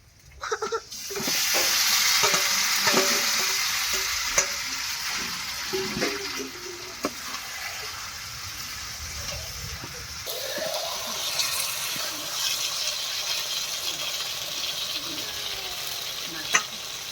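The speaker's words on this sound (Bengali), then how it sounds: "এবার মাংসটা কড়াই দিয়ে দিচ্ছি" Loud hiss as meat hits a hot wok, settling into a continuous sizzle with occasional clatter of stirring.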